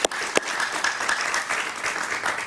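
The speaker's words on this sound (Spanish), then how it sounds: "Un aplauso para él, por favor." A studio audience on Jaime Bayly's television talk show applauds warmly, a dense, steady wash of many hands clapping that stays full and even for a few seconds.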